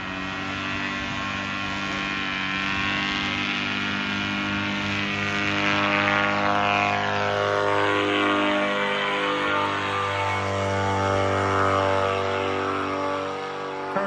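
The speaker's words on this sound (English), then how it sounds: "So this is me taking off." Airplane taking off: a steady, loud engine drone with a strong hum that swells gradually and holds, close and continuous with no talking.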